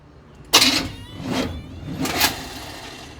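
A 1984 Chevy Silverado engine is cranked with a possible timing fault, giving an abrupt first burst followed by two rising, uneven cranking surges that do not settle into a steady idle.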